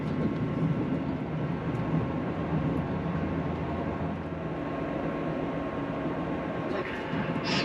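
Steady low rumble and rattle of a ScotRail train rolling along the tracks near Inverness, continuous and fairly loud throughout, with a brief high squeal near the end.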